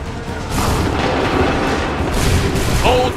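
Cannon and musket volleys thunder in Assassin's Creed III, a loud sustained barrage of deep booms and cracks rolling on without pause, with a brief shouted voice near the end.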